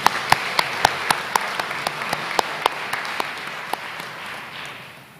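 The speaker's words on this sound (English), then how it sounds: "May I invite for her a round of applause at this time?" Scattered applause from a graduation audience at a 2021 high school ceremony, a few sharp distinct claps standing out over a soft wash of clapping that gradually thins and fades.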